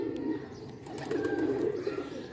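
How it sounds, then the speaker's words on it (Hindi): A pigeon's low, soft cooing rumbles steadily and close by, with faint rustling in the background. "ये हरा चपड़ा सा कबूतर है"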